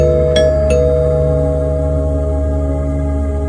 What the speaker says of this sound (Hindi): मैंने फिर से दरवाजा खटखटाया और दरवाजे की घंटी बजाई